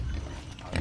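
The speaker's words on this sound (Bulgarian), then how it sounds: "Това са моите специални прасета" Pigs oinking and grunting nearby in short, low snorts, with a louder grunt toward the end of the brief moment.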